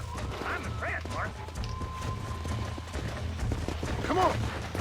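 Horse hooves clip-clop in the Red Dead Redemption video game, a steady run of hoof beats mixed with game sound effects and a brief whinny-like call, while someone talks over it.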